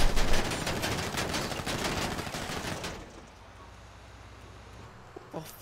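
A burst of dense gunfire in GTA RP, loud rapid automatic shooting for about three seconds that cuts off into quiet background with faint voices.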